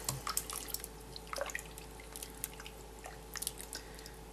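A quart of filtered water is poured into a pot of figs for homebrewed mead, a steady close splashing stream with scattered drips and small plops throughout.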